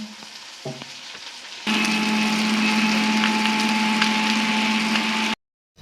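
Electric grinder blending mustard seeds with green chilies and salt into a paste for a small-fish curry; after a quieter start with light kitchen clatter, a loud, steady motor whirr runs for several seconds, then cuts off abruptly.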